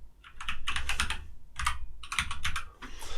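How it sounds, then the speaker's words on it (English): Computer keyboard typing in bursts of rapid, close keystrokes with short pauses between phrases, entering a Facebook search into the Canva design tool. "you can type in here Facebook"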